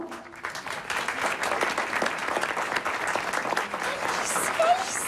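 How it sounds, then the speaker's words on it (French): An audience at a magic show applauds, a dense, sustained burst of many hands clapping at moderate loudness that carries steadily through to the end. "Sous vos applaudissements."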